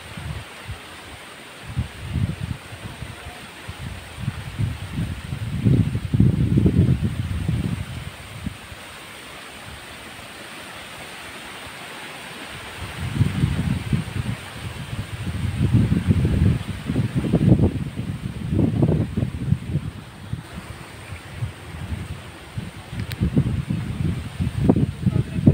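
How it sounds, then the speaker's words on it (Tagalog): Strong wind gusts buffet the microphone in rough, rumbling waves at a paragliding overlook on the Davilan trail, easing briefly in the middle before blowing hard again. "Sarap dito, lakas ng hangin."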